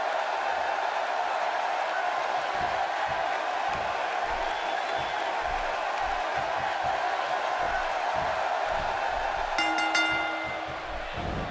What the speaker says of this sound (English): This crowd is on their feet in anticipation.